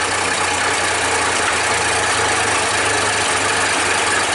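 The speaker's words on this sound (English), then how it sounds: "She's moving for the first time and I have no idea how many years. It also is making some fun sounds. Let's see if she'll idle down." An old loader tractor, just moved again after sitting unused for years, idles steadily up close with a loud, continuous engine rumble carrying a faint knocking pulse, and nobody speaks over it.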